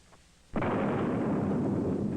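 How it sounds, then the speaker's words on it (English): A single deep boom of a cannon firing, followed by a long rolling roar that sustains loudly after a quiet moment. "capable of hearing the roar of a cannon"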